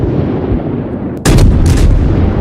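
Naval guns booming in a World of Warships battle, a loud heavy barrage that cuts in abruptly after a rumbling engine-like drone and keeps roaring to the end.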